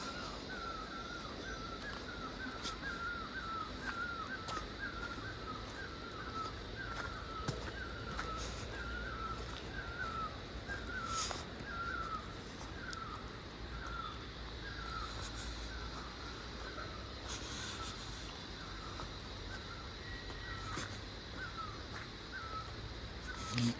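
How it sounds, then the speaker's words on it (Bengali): Crows caw repeatedly in a hillside forest near Kurseong, their calls carrying at moderate distance over a steady hum of insects and breeze, with no voices present. "পাখির আওয়াজ শুনতে পাচ্ছেন?"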